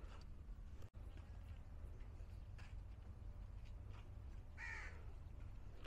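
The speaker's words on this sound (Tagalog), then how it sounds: "Ay, may uwak." At the Khor Kalba Mangrove Centre in Sharjah, a crow gives a single harsh caw late in the clip over a steady low background rumble, moderately distant.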